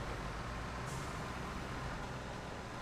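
A truck engine drones steadily in the SnowRunner video game, a low continuous rumble at moderate level with a brief hiss partway through and no speech.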